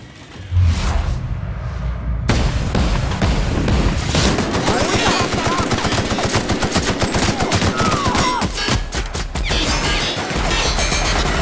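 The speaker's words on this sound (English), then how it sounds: "Oh, this turret. I hate this turret." Rapid automatic gunfire from a turret in The Outer Worlds game, a loud, dense stream of shots running almost continuously after a brief quiet start, with crashes and impacts mixed in.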